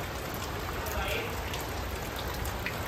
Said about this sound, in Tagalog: Sana tumila na yung ulan.